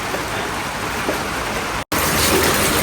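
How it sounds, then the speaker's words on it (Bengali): Heavy rain falls outside in a steady, dense hiss that fills the whole stretch without let-up, interrupted only by a brief dropout. "এই দেখেন বাইরে কি পরিমাণে বৃষ্টি হইতেছে"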